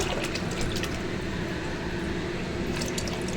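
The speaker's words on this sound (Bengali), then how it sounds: "এই দেখো জল দিচ্ছি।" Water poured into a pot of fish curry, a continuous splashing stream close by that runs steadily throughout.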